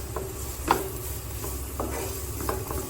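Onions browning in a frying pan for beef keema dosa are stirred with a utensil, giving soft scraping strokes and a light clink over a low sizzle, close by with no talking.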